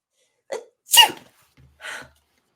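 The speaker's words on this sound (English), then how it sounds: "You wouldn't be sneezing if you weren't cold." A single close, sharp sneeze with a brief breathy lead-in, followed by a quieter breathy sniff, in an otherwise silent script reading.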